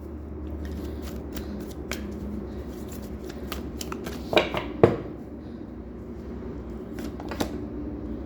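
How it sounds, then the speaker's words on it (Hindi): Tarot cards are shuffled by hand during a reading, with soft riffling and a run of crisp card snaps and flicks, a couple of sharper slaps near the middle, all fairly close and without talk. "जब मैं कार्ड शफल कर रही हूँ"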